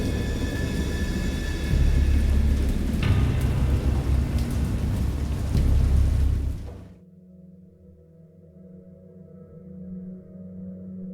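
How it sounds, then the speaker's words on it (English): Heavy rain and rumbling thunder of a great storm at sea near a boat, a dense loud roar that cuts off abruptly about two-thirds through, leaving a low quiet hum. "I have indistinct recollections of a great storm sometime after I reached the boat"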